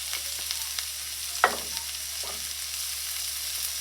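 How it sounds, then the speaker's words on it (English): Onions, sweet pepper and chives saute in a pan for breadfruit and saltfish rolls, giving a soft, even sizzle with a couple of sharp spatula scrapes partway through, close and fairly quiet. "we'll saute these together just for a couple of seconds"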